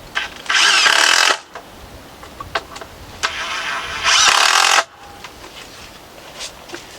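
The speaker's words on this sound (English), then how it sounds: "we'll mark and cut it and then finish screwing this in" A power saw cuts through a 2x4 board for a potting bench extension in a cattle panel greenhouse, two loud bursts of whining cutting a few seconds apart, with quieter handling knocks between.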